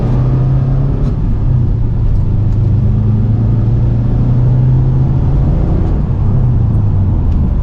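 A rebuilt Mitsubishi Evo VIII drives along a road with a steady mid-pitched engine drone and rumble, heard from inside the car and rising and falling slightly with throttle, with no talking.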